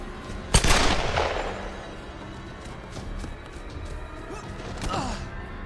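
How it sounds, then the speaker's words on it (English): Gunfire in the Tomb Raider video game: one sharp, loud shot followed by a short burst of rapid fire, then scattered quieter thumps and distant pops over a low ambient bed, with a voice calling out near the end. "What is he shooting at?"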